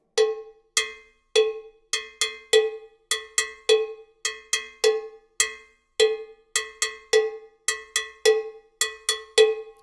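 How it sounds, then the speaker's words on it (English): Bongo bell pattern struck on a mambo bell: sharp metallic clanks in a steady, repeating rhythm, loud and close, with no voices. "So on this bell he was playing a bongo bell like this."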